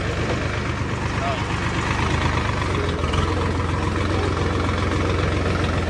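A tractor engine, an 855 model, running in high gear, a loud, steady low rumble close by with constant throbbing and no break.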